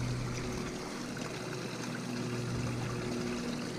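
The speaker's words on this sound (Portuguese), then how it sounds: "Esse barulho de água dá uma paz." Water trickles steadily from a small spring beside a little lake at a rural retreat, a continuous soft, even babble with no other distinct sounds.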